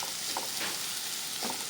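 Onions frying in a pan for a masala fish curry and dosa filling: a steady, close sizzle with a few stirring scrapes and bursts of crackle, continuous throughout and with no talk over it.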